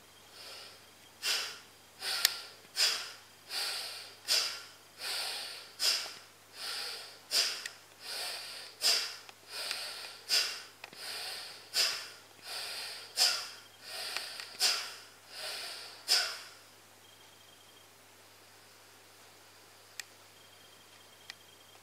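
Bhastrika yoga breathing: about fifteen forceful, rhythmic nasal breaths in a steady even series, close and clear, then the breathing stops and quiet follows.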